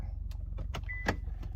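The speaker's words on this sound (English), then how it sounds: "I have to move up my car because I'm in a car wash." An idling car creeps forward in a car wash queue, its engine a steady low rumble with a few short mechanical whirs and clunks over the hum, close by.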